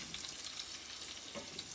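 Chicken shawarma fries in oil with a soft, continuous crackling sizzle, faint and close, with no voices over it.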